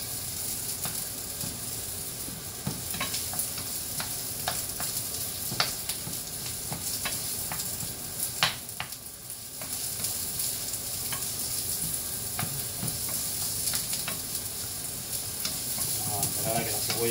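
Chopped onion sizzling steadily in a pan for Sicilian caponata, with frequent scraping strokes of a spoon stirring through it, a brief lull near the middle and denser clatter toward the end; no talking.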